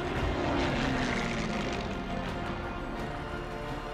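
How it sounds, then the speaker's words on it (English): Propeller planes fly overhead in formation above celebrating crowds in Paris, a dense, loud, continuous drone of aircraft engines filling the whole stretch. "planes zooming overhead in huge formations"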